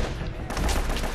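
A short, dense burst of gunfire from a firefight in Uncharted: Drake's Fortune, loud and close, with a faint voice in the mix.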